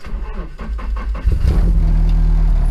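A car's Nissan SR20DET engine cranks briefly with a rhythmic churning, then catches and settles into a loud, steady idle close by.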